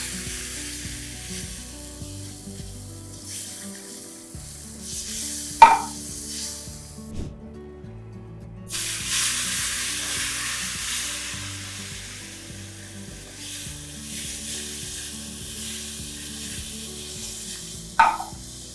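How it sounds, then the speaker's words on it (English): Sizzling ghee frying sheera ingredients in a pan on the stove, a steady crackle running throughout and swelling louder midway, with a couple of sharp clinks of a spoon against the pan. "Just fry that until it's golden brown."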